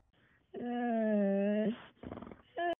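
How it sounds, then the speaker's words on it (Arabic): A dog whimpers and yips up close, one long drawn-out whining cry followed by a short rough burst and a brief final yelp, with no talk over it. "هذا كلب ثقيل"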